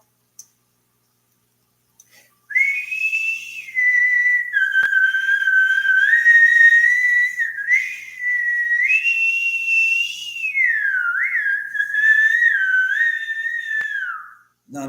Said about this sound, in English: Usually when I whistle in a weird way, she like runs up thinking it's dinner time because I trained them as such